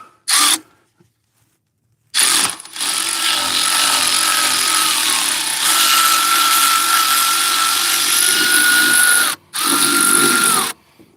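A power tool breaks loose the bottom starter bolt on a 1968 Thunderbird engine during removal: a short burst, then a long loud continuous whir close by, cut by a brief pause before a final run.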